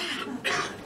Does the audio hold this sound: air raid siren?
no